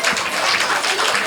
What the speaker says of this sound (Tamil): அனைவரும் நன்றாக கரகோஷம் எழுப்பி நம் குழந்தைகளை உற்சாகப்படுத்துமாறு கேட்டுக்கொள்கிறேன்